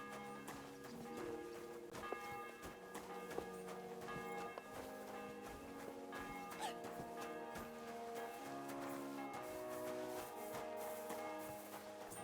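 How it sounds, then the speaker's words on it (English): Church bell ringing in the medieval game Kingdom Come: Deliverance II, steady resonant tolling tones sustained over a busy in-game soundscape with hoof clip-clop and footsteps, continuous throughout at moderate level. "The bell's ringing for Hans the 5th time."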